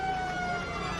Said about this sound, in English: and Oscar Murphy, but the siren beats him